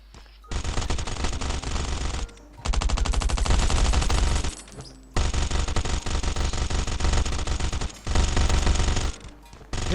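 Gunfire in Last Island of Survival: several long bursts of rapid automatic fire, loud and close, broken by short pauses between volleys.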